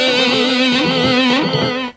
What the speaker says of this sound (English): This is the tape echo.